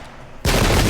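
A musket volley erupts in the Pike and Shot video game, a sudden loud, dense blast of massed gunfire that bursts in after a quiet moment and sustains to the end.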